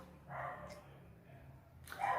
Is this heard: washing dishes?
no